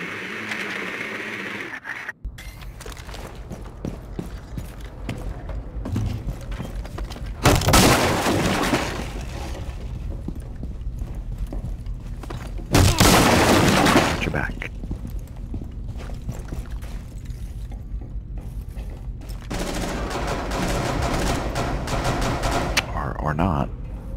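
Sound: gunfire shooting at a camera in video game Rainbow Six Siege

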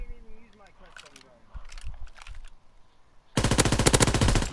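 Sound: machine gun firing in the video game Call of Duty: WWII

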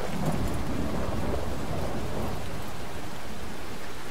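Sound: rain in the video game Fallout 4

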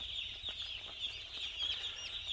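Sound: chicks being delivered into poultry houses

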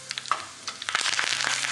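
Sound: curry leaves sizzling in hot oil for khandvi tempering

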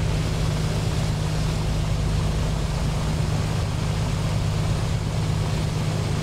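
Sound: A2A Piper Comanche engine running after start, from video game MSFS 2020

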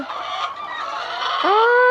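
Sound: laying hen clucking while being handled

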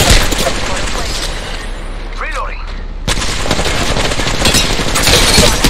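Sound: gunfire in a battle royale video game

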